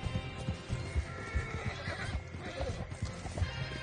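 A stallion in a video game whinnies and snorts while its hooves clop steadily in a brisk rhythm, close and fairly loud, with no talk over it.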